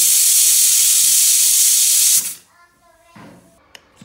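A pressure cooker cooking tender jackfruit lets off a loud, sustained steam hiss for about two seconds, then cuts off abruptly, leaving quiet kitchen clatter and faint sounds.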